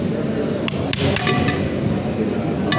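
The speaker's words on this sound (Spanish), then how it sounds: "Con la ayuda del martillo y vamos a pegarle en las orillas" A hammer taps around the edges of an alternator housing to free the stator, a few sharp metallic knocks spaced unevenly over a steady workshop background.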